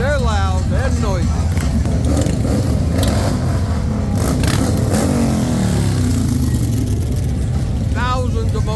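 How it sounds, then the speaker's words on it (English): Customized motorcycles pour down the main streets of Leesburg, Florida, during a motorcycle rally, with loud, continuous engine rumble and rising and falling revs as bikes pass close by, and crowd voices mixed in. "Thousands of motorcycles."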